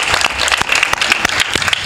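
An audience at a Hindi poetry gathering claps loudly and steadily for the presiding guru, dense applause filling the whole short moment at close range.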